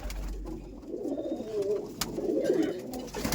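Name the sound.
flying pigeons cooing in loft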